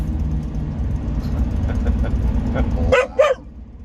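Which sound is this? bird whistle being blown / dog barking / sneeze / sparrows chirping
dog barking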